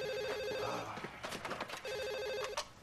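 A telephone rings in two bursts of electronic trilling separated by a short pause, loud and close, with no voices over it.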